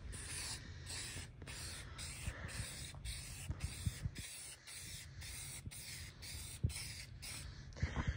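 Spray gun hissing steadily as paint goes onto a sanded car hood, likely a Saab 900, in repeated short bursts with brief gaps, close and continuous over the whole stretch with no talking.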